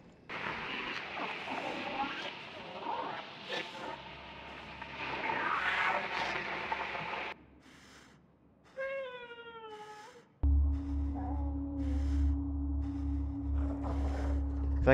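Cat in the Lovecraftian video game Conarium, several drawn-out wavering meows after a stretch of rumbling ambience, followed by a loud low pulsing hum, all close and fairly loud.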